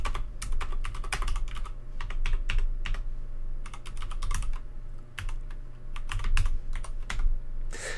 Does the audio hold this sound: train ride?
no